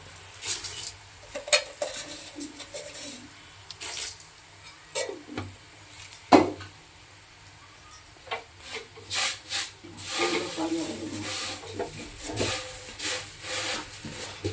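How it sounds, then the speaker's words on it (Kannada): Thin avalakki (flattened rice) is stirred in a pan, giving repeated scraping, rattling strokes of a utensil against metal, irregular and close, with one louder knock. "ತೆಳು ಅವಲಕ್ಕಿನ ಹಾಕಿ ಚೆನ್ನಾಗಿ ಕೈ ಆಡ್ತಾ ಇರಬೇಕು"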